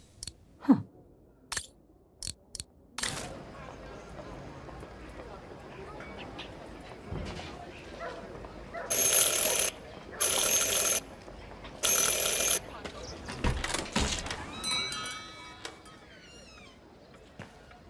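Three bursts of a ringing bell in Syberia: The World Before, evenly spaced and loud against a quiet room with footsteps and small clicks around them.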